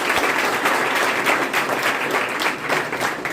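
A crowd claps steadily throughout, a dense continuous wash of applause with no voices standing out.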